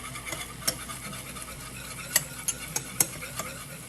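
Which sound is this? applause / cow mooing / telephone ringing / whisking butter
whisking butter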